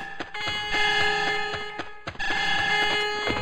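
Many electronic alarms blaring at once in the video game Star Wars Jedi Knight: Mysteries of the Sith, a steady, loud, layered ringing with rapid repeating pulses that continues almost without a break.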